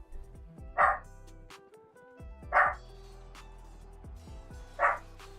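A dog barks three times at roughly even intervals, each bark loud and sharp, over a steady background of game music and sound effects.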